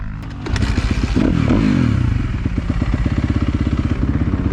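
A motocross dirt bike rides a rough sand track, its engine rising from a steady drone into a loud, rapidly pulsing roar with revs, close and continuous.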